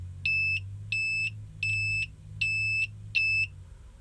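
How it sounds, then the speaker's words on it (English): An analog multimeter's built-in continuity buzzer beeps five times in a steady rhythm, each tone roughly a third of a second long, loud and close, over a low background hum. "Now it does have a buzzer in it, but it beeps."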